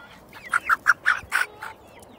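Chickens in a garden at evening feeding time, with young Denizli chicks among them, give a run of six short, sharp clucking calls in steady rhythm, close by, with no talking.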